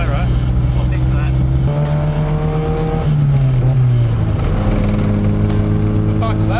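A 1980 TE Gemini car drives with a loud, rough engine drone and shifting pitch as it revs, while a rattling torque tube adds mechanical noise underneath and people talk over it.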